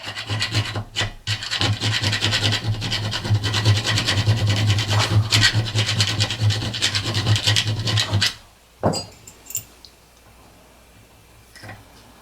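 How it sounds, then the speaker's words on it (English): Hand file rasping on metal while shaping a custom C-clamp, a dense continuous scraping run of strokes for about eight seconds, then stopping with a few light knocks and handling sounds. "just a little more filing and we'll have that"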